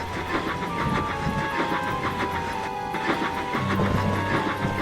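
A steam locomotive in the Trainz video game slips its wheels on the rails, giving repeated rapid chuffs over a steady hiss and mechanical clatter.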